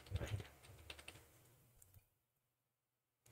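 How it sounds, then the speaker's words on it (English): Quiet clicking of keys being typed on a computer keyboard, a rapid soft patter for about two seconds before falling silent. "we're going to type in signature."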